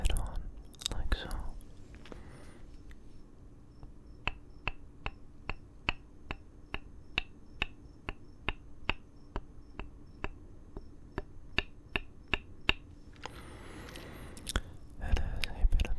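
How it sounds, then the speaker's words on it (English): A maul strikes the flat top of a tool head-on, giving a steady series of bright, ringing metallic taps at close range, with soft whispering before and after. "how the angle of the maul hitting the tool changes the sound so drastically"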